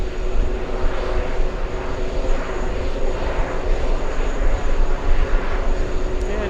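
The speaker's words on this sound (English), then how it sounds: "747 slowing down on runway 13 left." A Boeing 747 slowing down on runway 13 left at LA, heard as a continuous loud roar of jet engines with a broad rushing hiss, steady throughout without talk.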